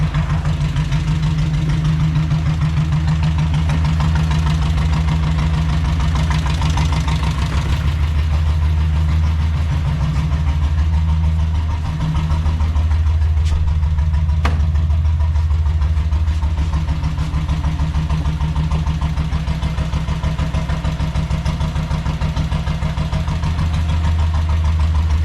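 A Royal Enfield diesel Bullet motorcycle engine runs steadily at idle, loud and close, with a deep, even thumping rumble and a slight knocking throb that holds throughout.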